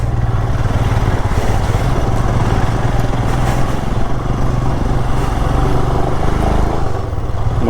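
A motorcycle engine labours steadily up a mountain road on the Manali to Chandigarh leg of a Ladakh ride, a loud, continuous drone with wind rumble, up close and with no talking.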